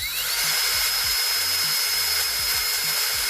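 A power drill whines steadily and close while drilling for Datsun 510 axle tubes, its motor pitch climbing at the start and then holding as the bit grinds continuously.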